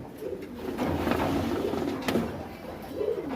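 Pigeons in a loft cooing softly, low rolling coos repeating under light background noise and a few clicks, close by with no clear talk.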